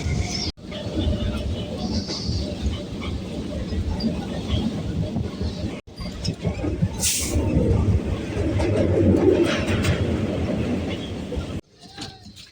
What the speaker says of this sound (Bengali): ট্রেন ভালো টানছে